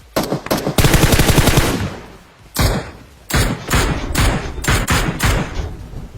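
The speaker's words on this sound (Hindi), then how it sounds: "तो आपको ये जो मिनी की आवाज आई" Mini14 rifle gunfire in the PUBG video game, loud close bursts of rapid shots separated by short pauses, with booming reports and echoing tails.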